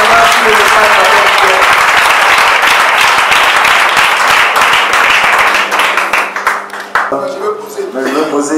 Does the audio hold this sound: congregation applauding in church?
yes